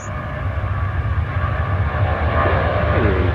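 Rolls-Royce jet engine on a PMDG 777-200ER in Microsoft Flight Simulator 2024, a steady, broad roar with a low rumble and a faint rising tonal whine, continuous and fairly loud throughout.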